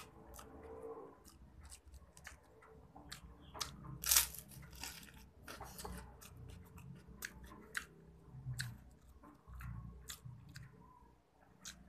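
Crispy fried young catfish with its bones being chewed up close, a steady run of crunchy bites and squishy mastication with no talking.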